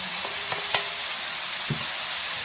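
Minced pork dry-roasting for Sukhothai-style larb in a pan gives a steady close sizzle, with a few faint scrapes and taps of stirring and no talking.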